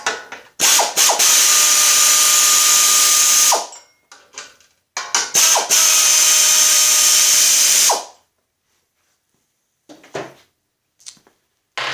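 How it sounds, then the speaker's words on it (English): An impact wrench hammers loudly and close up while removing bolts from a rear case, in two long rattling bursts of about three seconds each, separated by short gaps, followed by a few brief blips. "Now it's going to be a little bit noisy because I'm getting lazy in my old age, and I'm going to use an impact."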